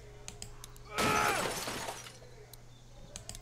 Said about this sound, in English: Wow, that glass just broke like nothing